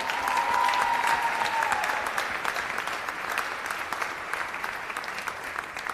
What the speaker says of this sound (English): So if we could give him a round of applause.